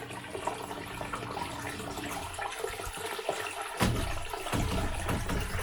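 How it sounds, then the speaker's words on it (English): Floodwater rushes and gurgles into sump pump holes in the middle of a flooded building floor, a steady close wash of flowing water with a few splashes, no talking. "we have flooding into holes that go to a sump pump that have been here in the middle of the building since it was built"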